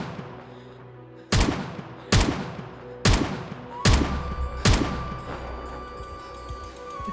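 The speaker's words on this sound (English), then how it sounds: "flooding towards the alarm sound, and now the gunshots Emily makes." Gunfire in the video game Project Zomboid: five sharp, loud shots spaced roughly a second apart over a steady low background hum, with no talking.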